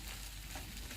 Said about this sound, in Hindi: अब इसको हम भूनेंगे 4-5 मिनट तक।